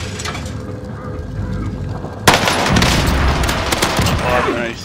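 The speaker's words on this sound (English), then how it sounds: "Grenade out!" A grenade explodes in a video-game firefight with a sudden loud boom, followed by a rumbling roar and scattered gunfire amid muffled game sounds.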